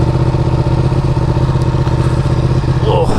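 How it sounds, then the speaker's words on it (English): An adventure motorcycle's engine runs close by with a steady, loud mid-pitched rumble and a slight clatter throughout, with no talking. "Oh, got an adventure bike."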